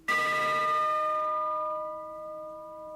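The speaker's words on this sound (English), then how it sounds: "a very, very loud bell." A single very loud strike of the warning bell on an LMS Duchess class locomotive rings out close, its bright metallic tones sustaining and slowly fading over several seconds with no talk.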